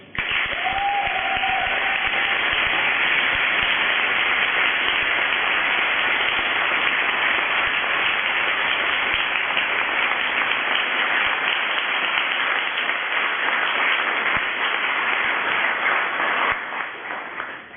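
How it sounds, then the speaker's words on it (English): A full room of people claps loudly for Andy at a student JCR awards evening and president's leaving speech, a dense, sustained ovation that holds steady for about sixteen seconds before tapering off. "I propose we show our thanks with a round of applause to Andy"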